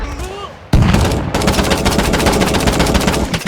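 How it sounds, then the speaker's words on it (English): Sustained machine-gun fire in the battle game TABS, a WW1 last stand at a house, starting abruptly after a quieter opening and continuing as a loud, dense rattle of rapid shots to the end. "The machine gunner opens fire on the horde of Germans at the doorstep of the house"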